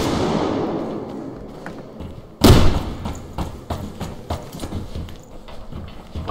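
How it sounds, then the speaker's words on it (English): A grenade blast in the shooter Survarium, one sudden loud thudding explosion after a quieter stretch, followed by scattered thumps and debris sounds. "Grenade!"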